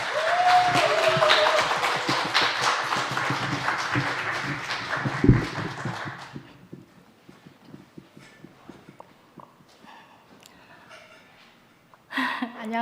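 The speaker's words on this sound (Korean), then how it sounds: "큰 박수 부탁드립니다" An audience at a Thursday church gathering claps warmly and steadily for about six seconds, then the applause fades out into quiet room noise with a few faint sounds.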